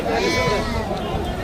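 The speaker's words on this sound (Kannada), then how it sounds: "ಹೊನ್ನಾರೆ ಕುರಿ" A Honnare sheep bleats in a close, wavering call while people talk nearby.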